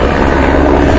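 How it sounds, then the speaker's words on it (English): Tour helicopter taking off over a vineyard, a loud, close, steady rotor thump with engine roar and no speech over it. "We have the helicopter again taking off over the vineyard tour helicopter."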